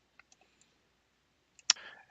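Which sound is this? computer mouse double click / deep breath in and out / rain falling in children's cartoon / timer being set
computer mouse double click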